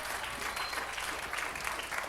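Sustained studio audience applause on a TV game show, a dense steady wash of clapping filling the room with no voices over it.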